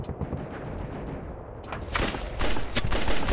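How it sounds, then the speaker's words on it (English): Heavy gunfire and booming blasts fill a battle in the game Mud and Blood Pacific, a dense rumbling barrage that grows louder with sharp cracking shots in the second half. "Under heavy fire!"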